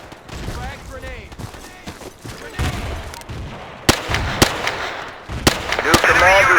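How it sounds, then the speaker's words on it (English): Battlefield 2 combat with a frag grenade blast among sharp gunshot cracks, several loud percussive hits in the second half amid crackling bursts and shouted voice callouts. "Frag grenade!"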